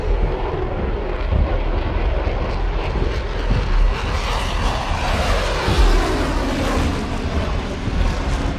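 A Rafale fighter jet of the Indian Air Force in flight, a loud broad roaring engine wash that holds steady for several seconds with slow swells, no voices over it.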